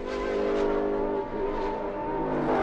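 A Ferrari sports prototype, car number 16, corners during a 1994 IMSA race at Indianapolis Raceway Park, its steady loud engine drone holding a pitch that dips and recovers mid-turn, with no talk over it.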